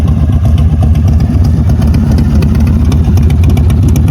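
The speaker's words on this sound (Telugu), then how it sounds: "ఆయన ఒకసారి డ్రైవ్ చేస్తున్నాడు. చూడండి ఎలా ఉందో బైక్." A motorcycle ridden past along a street in the United States during fall, a loud, continuous engine rumble close to the listener that holds steady throughout, with no talk over it.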